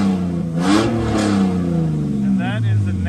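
A Nissan Xterra with a VQ engine and upgraded exhaust revs hard, rising and falling in deep throaty pitch sweeps, loud and close, before settling to a rumbling idle.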